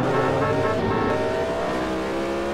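A police car, a toy-style kids' ride, drives off with a steady, loud engine drone and a rising tonal whine, close and continuous with no talking.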